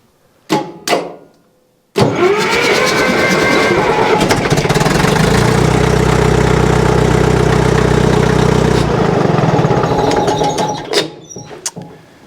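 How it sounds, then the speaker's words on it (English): A Cat D4 engine cranks briefly, stops, then catches and runs loud and close for about nine seconds before shutting down, with a few sharp clanks at the start and end. "And then turn it off and then crank the engine."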